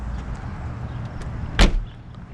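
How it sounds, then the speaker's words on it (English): Rear hatch of a 1995 Chevrolet Corvette lifting on its gas props after a button press, a single short whooshing release near the middle of an otherwise quiet moment, close by. "We'll open the hatch. It's a push of the button. You see those props work just as they should."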